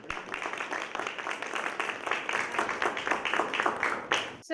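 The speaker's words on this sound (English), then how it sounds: "let's give a round of applause to our guest for today" Audience applause welcoming a guest speaker in a university music classroom session on assistive devices, steady dense clapping from a modest crowd across the whole moment, fairly soft and close.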